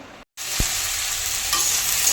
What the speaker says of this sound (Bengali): একটু আলু ভাজা করছি